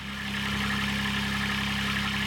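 A Kubota diesel engine fitted in a Saturn SC1 car idles steadily nearby, a low, even rumble with a constant mechanical drone and no other sounds.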